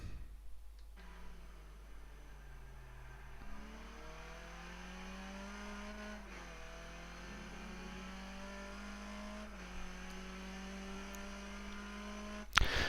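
Skip Barber race car engine lapping Montreal in the iRacing sim, a steady mid-pitched drone climbing through gears with rising pitch sweeps and brief shift dips, continuous and close, no talk.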